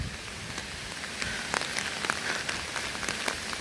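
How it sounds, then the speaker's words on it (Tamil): Rain from a storm over Chavakachcheri, Jaffna, Sri Lanka falls as a steady hiss, with scattered louder drops and patters hitting a surface nearby, and no voices present. "காற்றும் மழையும் கட்டாயமாக இருக்குது."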